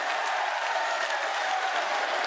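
A large crowd at an outdoor political rally claps steadily to welcome Yogi Adityanath, making a broad, continuous wash of applause at even volume throughout.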